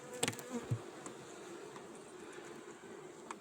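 Bees buzzing around hive frames and honey supers in a sunflower-honey apiary, a faint steady hum with a few brief louder passes close by near the start.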